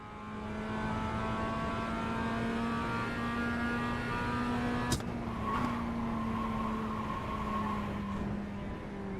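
A racing car's engine held on throttle at Barber Motorsports Park, a steady, loud drone whose pitch shifts slightly mid-run, with no talking.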